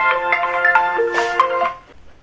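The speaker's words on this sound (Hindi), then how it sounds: "फोन बज रहा है, अभी पता नहीं किसका फोन होगा" A mobile phone ringtone rings indoors at home, a bright repeating melodic tone playing steadily at moderate loudness with no talk before it cuts off near the end.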